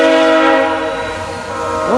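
A VIA Rail passenger train pulling off Coe Junction sounds loud, sustained horn chords close by, over a rumbling engine, with the tone bending near the end.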